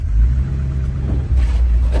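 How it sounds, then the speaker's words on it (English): A 1964 Chevrolet Bel Air burbles through dual glass pack mufflers, giving a deep, steady, loud exhaust rumble up close with a slight dip and swell partway through. "Dual giant glass packs. Well, yeah, that's why it sounds so awesome."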